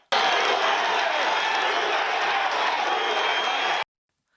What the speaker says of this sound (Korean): 지지자들은 환호했습니다.